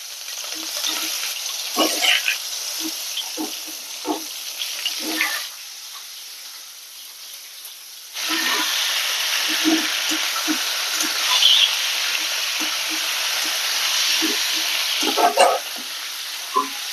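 Ridge gourd slices dropped into hot oil with dried red chillies and Bengali five-spice tempering, sizzling steadily and close by, with a brief lull before louder frying resumes and stirring scrapes break through the hiss.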